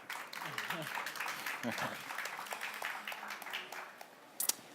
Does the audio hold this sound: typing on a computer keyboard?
no